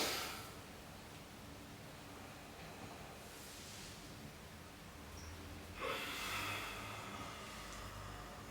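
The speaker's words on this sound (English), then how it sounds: "Let's all take this first inhale together" Deep breathing during a vinyasa yoga practice, with a soft, airy breath sound around the start and a fuller breath near the end, faint against steady background hiss.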